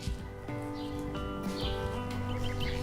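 Small birds chirp and tweet in short bursts over a steady background bed of music and rustle, moderately loud and continuous throughout.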